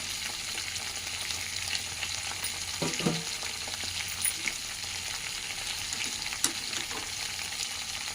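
Mint, tamarind and chillies fry in a pan with a constant bright sizzle, broken by a few soft stirring knocks and scrapes, close and without speech.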